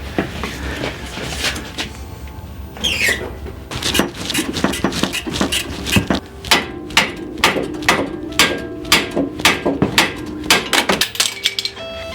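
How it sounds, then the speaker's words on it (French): Hammer blows strike a puller fitted to an upper suspension arm on an Alfa Romeo 156, sharp metallic clanks repeating in quickening bursts, close and loud, with no talk. "mais ça lâche toujours au dernier coup de marteau qu'on donne."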